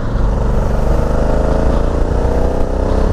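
A 2020 Honda Africa Twin Adventure Sports DCT motorcycle riding on, its engine a loud steady drone with a rising revving tone as it downshifts, close and continuous under wind rush.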